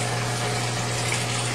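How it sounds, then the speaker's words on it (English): Water flowing steadily down into the larger flood tank of a barrelponics system, a continuous close rushing gush with no voices. "See the water flowing down? It's flowing down into this bigger tank here."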